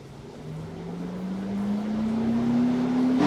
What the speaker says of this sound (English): the radiator fan just kicked into full gear